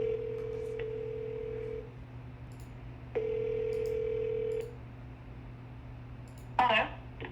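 A telephone rings in two long electronic tones separated by a pause, steady and fairly loud over a low constant hum, followed by a brief clatter as the handset is lifted.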